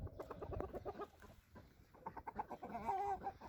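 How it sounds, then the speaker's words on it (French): A small young rooster and two hens in their breeding pen give soft, close clucks and murmuring calls in irregular bursts, quiet overall, with a short lull partway before the clucking resumes. "Donc un petit coq avec 2 autres poules pour cette année."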